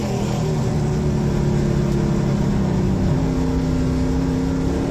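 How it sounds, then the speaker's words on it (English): Heavy NASCAR Pinty's Series race car on a dirt track, heard onboard: a loud, steady engine drone fills the whole stretch with no pause, its pitch holding level and then shifting slightly partway through. "They're heavy, heavy race cars with a lot of horsepower"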